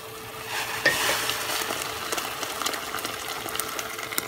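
Boiling water poured into a pot of rice with onion and mushrooms in a home kitchen, a steady close hiss and sizzle with faint clinks, no talk.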